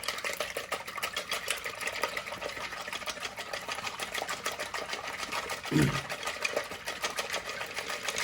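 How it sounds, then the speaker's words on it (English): Eggs are whisked by hand in a bowl with rapid, even rhythmic clicking and sloshing that runs steadily throughout. One louder scrape sounds near the end. "We're going to go ahead and whisk our eggs. We want to go ahead and whisk them really good."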